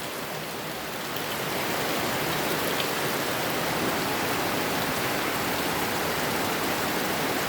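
Steady heavy rain pours down on an Eid ul-Adha morning in Cox's Bazar district, a dense, even roar that swells slightly after the first second and continues alone.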